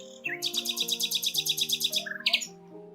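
A common nightingale sings a rapid run of bright, evenly repeated notes followed by a short varied phrase, clear and fairly close, while a steady low tone hums underneath.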